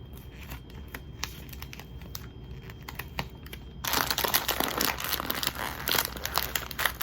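A chip bag crinkles as tape is pressed onto it. The crackling runs through the whole stretch, light and close at first, then louder and denser for the last few seconds. No one speaks.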